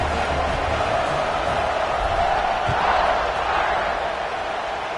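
Stadium crowd at a Washington State Cougars college football game roaring after a kickoff return touchdown, a steady loud wash of cheering and whooping from a large audience with no single voice standing out.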